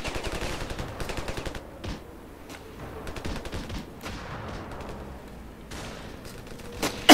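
Rapid bursts of automatic gunfire in the video game Ravenfield, a dense rattling volley at the start easing into scattered shots and battle noise, with a sharp loud crack at the very end.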